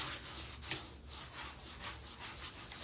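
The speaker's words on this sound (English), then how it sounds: "Keep on rubbing it a little bit." Soft, repeated rubbing strokes burnish a rub-on transfer onto a Hobby Lobby sign surface, a quiet scratchy back-and-forth friction sound with no voices.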